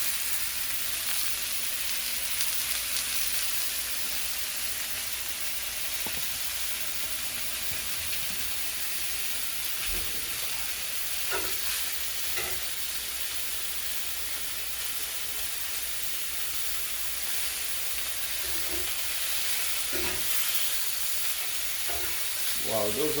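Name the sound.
chicken cooking in a cast iron skillet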